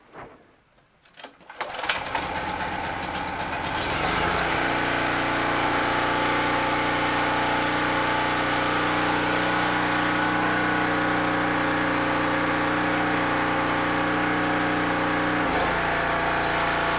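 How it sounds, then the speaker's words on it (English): A portable generator cranks over for a couple of seconds, catches, and settles into a loud, steady engine drone that runs on alone near the microphone. "let me get the generator started"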